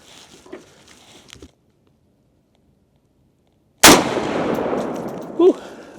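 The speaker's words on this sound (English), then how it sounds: "See how we do on this next shot." A single sharp, loud gunshot cracks out at outdoor pistol and rifle target practice with a Beretta M9A1 pistol or S&W M&P10 rifle, following quiet handling noises and near-silence, with a second smaller bang echoing after.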